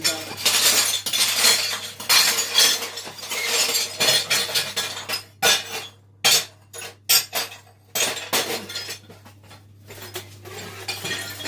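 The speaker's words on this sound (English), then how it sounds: "it's because I'm collecting the glass off the floor" Shards of broken glass being picked up off a floor in a small kitchen space, with repeated sharp clinks and scraping chinks, some loud and close, separated by brief quiet gaps.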